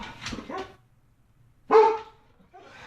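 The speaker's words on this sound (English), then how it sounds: "My dog hears the mailman." A pit bull barks at the mailman, one loud close bark standing out between stretches of a voice, with a softer yelp near the end.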